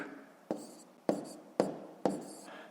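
Numbers are written by hand on paper, four distinct scratchy pen strokes spaced about half a second apart, close and quiet with no talking.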